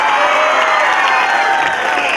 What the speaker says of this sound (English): I like the wonderful applause by the children.